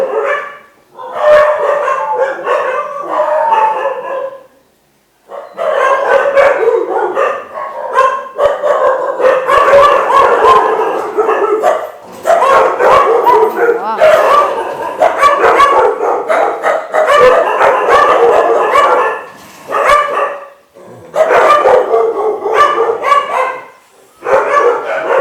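Several pet dogs bark, yip and howl in overlapping bursts at close range, loud and persistent with short pauses between flurries.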